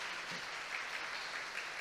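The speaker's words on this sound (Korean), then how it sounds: "저기 계신 잠깐 서시면 우리 박수로 환영하겠습니다" A church congregation at a Korean Sunday service applauds to welcome back a member: a short, even burst of steady clapping from a roomful of people, fairly soft and continuous without voices.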